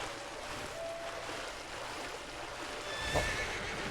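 A horse whinnies in the video game Dragon Quest XI S, the call faint and partly buried in a steady ambient wash like surf, with a brief brighter burst near the end.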